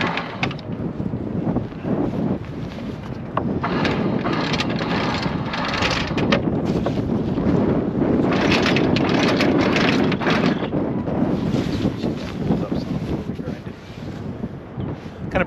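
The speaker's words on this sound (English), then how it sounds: "Kind of breezy, huh?" Strong wind buffets a Catalina 387 sailboat, roaring and gusting loudly and continuously across the deck with heavy rumble.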